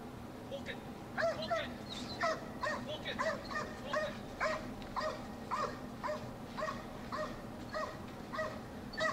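A five-month-old protection dog puppy stays in place and barks on command, giving a rapid run of sharp, high yips and barks at moderate distance over a low background rumble.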